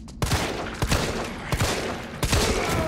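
Gunfire in Resident Evil 3 Remake, several loud separate shots spaced about half a second apart, each a sharp close crack, heard alone without talk.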